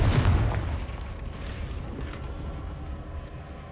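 A Confringo spell blast in the video game Hogwarts Legacy bursts loudly at the start, a booming hit that decays into a rumbling tail with faint crackles afterward.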